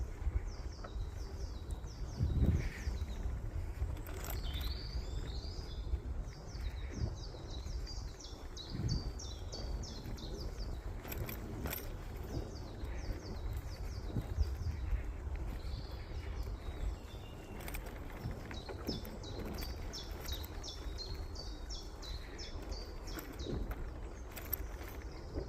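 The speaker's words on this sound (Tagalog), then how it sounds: "Ang sarap pakinggan ng mga tunog ng ibon." Small birds chirp and twitter faintly outdoors, the calls repeating through a soft, steady background rumble.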